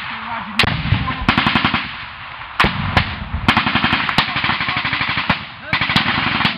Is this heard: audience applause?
no